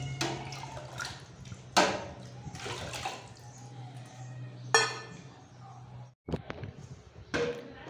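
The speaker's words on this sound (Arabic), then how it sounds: "طبعا هسه نعبي المشربيات ان شاء الله مشربيات الدجاج نقدمه للدجاج ان شاء الله" Water is poured and splashes into plastic chicken drinkers in bursts, close by, with a steady low hum underneath and some clinks.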